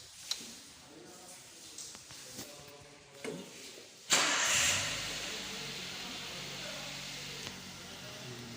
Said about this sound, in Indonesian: langkah selanjutnya yaitu kita nyalakan mesin